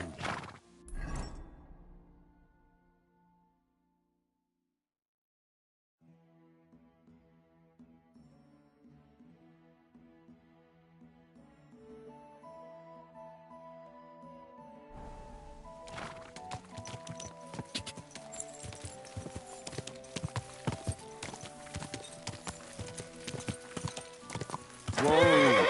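A horse in Kingdom Come Deliverance 2 whinnies sharply at the start, then after a pause its hooves clip-clop at a walk and build into a faster, louder trot, with a rising musical score playing underneath.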